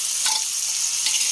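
Ground shrimp paste with garlic and ginger hits hot oil in a steady close hiss of frying, with two brief bursts of stirring, no voices.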